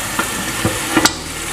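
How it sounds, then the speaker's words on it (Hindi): Onions and boneless chicken pieces frying in a pot for a white handi, a continuous close sizzle with a few sharp spatula clicks and taps over a short stretch, no voices. "वो प्याज फ्राई हो रही है और यहाँ ये बोटियाँ फ्राई हो रही हैं।"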